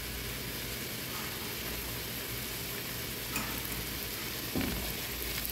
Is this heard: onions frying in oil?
yes